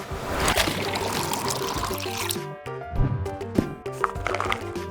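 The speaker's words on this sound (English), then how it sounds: "Find a bucket. Add some water." Water pouring into a bucket for mopping a floor, a splashing, bubbling fill that rises in pitch, followed by hollow clunks and knocks as the pour ends.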